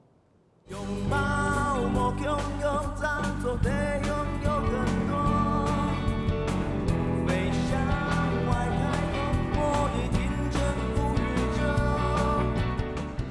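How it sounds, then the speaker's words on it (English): A full band plays continuously, with a dense modern arrangement and a steady beat under what sounds like a sung melody in the Hakka language, with no talking. "What you're hearing is the language of the Hakka people, set to modern music."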